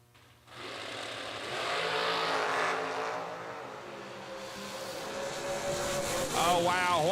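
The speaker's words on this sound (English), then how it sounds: "Oh, wow, what a drag race." Drag race cars roar down the strip at a Laris Motorsports Insurance $250K event, a loud sustained engine howl that rises and holds, with a revving shift near the end and announcer talk faintly underneath.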